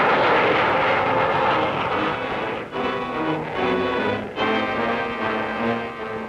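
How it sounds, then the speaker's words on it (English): A propeller aircraft roars steadily during speed runs over a course, with a loud, sustained drone that shifts slightly in tone as it passes. "the speed and flight as Major Drew makes 2 runs over the course"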